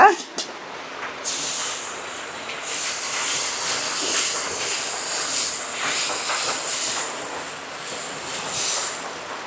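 A ladle of pesarattu batter spread on a well-heated pan with no oil gives off a strong, steady steamy hiss that rises sharply at the start and holds for several seconds, with a voice talking over it.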